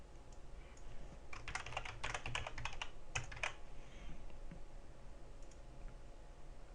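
Rapid bursts of typing on a computer keyboard while editing C++ code, quick clustered key clicks in short runs separated by pauses, close and quiet with no talking.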